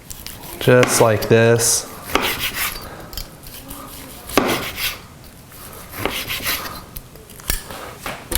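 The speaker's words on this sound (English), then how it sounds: "take a nice sharp knife. This is a carving knife, and just cut really thin slices" A carving knife draws in soft rasping strokes through Baltimore-style pit beef roasted on a Grill Dome kamado, scattered light scrapes with a sharp tap near the end, after a short spoken line.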